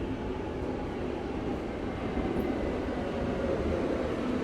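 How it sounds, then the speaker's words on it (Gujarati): A train pulls into a station in Berlin with a steady, loud rumble of wheels and cars rolling past, constant throughout without talking. "આવી રીતે ટ્રેન આવે."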